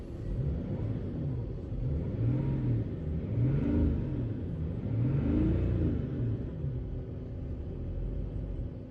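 A BMW X5 engine revving as the throttle is pressed, a deep rumble that climbs and falls in repeated surges, close and loud with no talk.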